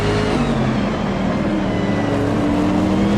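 Race car engines drone in Automobilista 2 during a multi-class battle at Indianapolis's 2005 layout, with a Corvette, Maserati and Ferraris in the pack. Close, continuous engine roar climbs gradually in pitch as the cars accelerate, with no other sounds.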